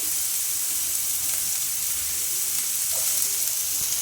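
Sliced garlic, ginger and thinly sliced shallots frying in hot oil for soya pepper fry, a close, continuous hissing sizzle with light crackles, no voices.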